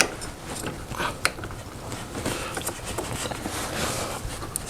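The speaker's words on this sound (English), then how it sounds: "So Seth is pulling the axle out." An axle being pulled out of a CFMOTO CFORCE 600 ATV during a lift kit install, with close metallic clunks and grinding scrapes over a steady broadband workshop noise.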